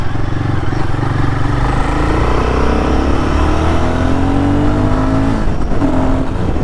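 A Royal Enfield Guerrilla 450 motorcycle accelerating hard on the road, a loud engine note rising steadily in pitch through the gear, with wind rush over it, recorded from the rider's position.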